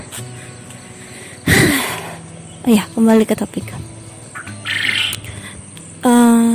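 Bright bird chirps ring out in short bursts between stretches of speech, with outdoor background hum underneath.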